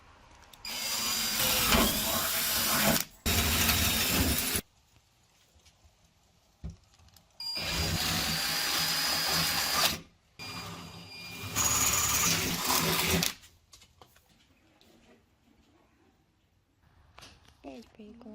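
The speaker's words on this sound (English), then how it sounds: "So I need to drill a hole for these studs" Power drill boring a 15/64-inch hole for studs on a 30-year-old Dodge Stealth during restoration: several loud sustained bursts of drilling, separated by pauses, close up.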